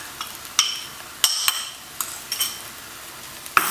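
Spices and chili powder are stirred in a pan for butter chicken, with a spoon scraping and knocking in several sharp, uneven strokes over a soft sizzle, close up and with no voices.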